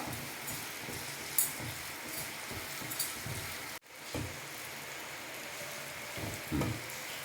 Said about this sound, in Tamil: ஒரு 5 நிமிஷம் வரைக்கும் இதை நம்ம அப்படியே ஃப்ரை பண்ணிக்கலாம்